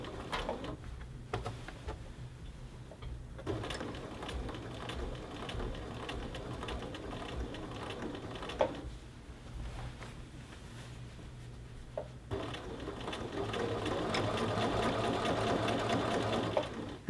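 A sewing machine stitches along the collar band of a men's shirt in a series of runs separated by short pauses and handling sounds, close and steady, with the final burst the fastest and loudest.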